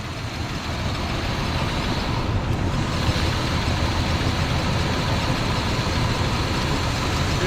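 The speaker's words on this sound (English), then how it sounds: "She got a little bit of a rough idle" A 1979 Chevrolet Malibu, started for the first time after 20 years and fitted with a cam, idles roughly with a loud, steady, close rumble that runs unbroken throughout, with no one talking.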